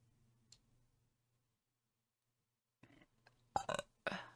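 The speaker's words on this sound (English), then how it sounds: "I can't believe I just burped on stream." A single close, low burp erupts near the end after mostly quiet room tone, followed by a second short guttural burst.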